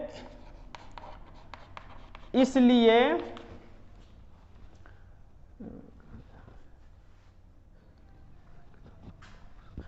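Pen writing on paper while solving a class 10 math problem, soft scratchy strokes and taps at close range, with a short spoken phrase partway through.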